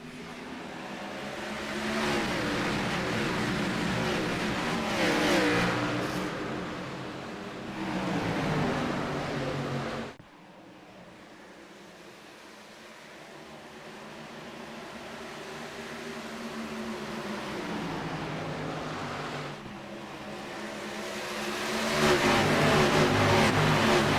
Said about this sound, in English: Let's take a listen to the sounds as these cars get ready to rev.